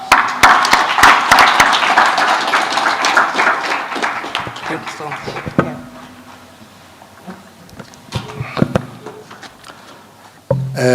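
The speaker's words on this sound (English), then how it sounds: "as he stands up, let's give him a clap" An audience at a technology and innovation conference applauds to welcome the director, loud dense clapping that fades after about five seconds, followed by scattered claps and someone speaking.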